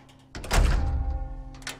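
A door being closed, a single dull thunk with a short resonant tail, close and fairly loud, followed by a faint second knock.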